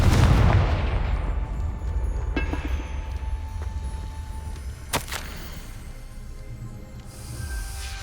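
A blasting fire spell cast in the video game Hogwarts Legacy opens with a loud, booming explosion that rumbles away, followed by a few sharper cracks and a hissing burst against a low, continuous game background.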